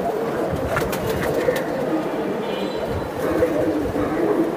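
Racing Giribaz pigeons coo in a soft, continuous murmur from a busy loft, set against a steady broadband din, with people talking over them.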